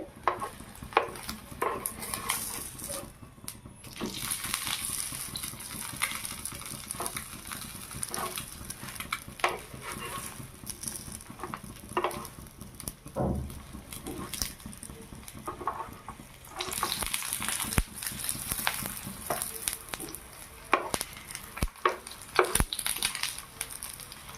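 A breakfast snack frying in a pan gives a steady sizzle and crackle throughout, with scattered scraping, stirring and clinks of utensils against the pan.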